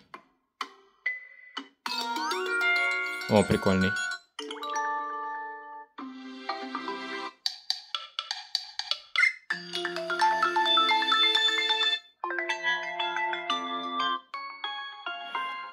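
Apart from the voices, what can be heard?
phone ringtone on Honor X7C smartphone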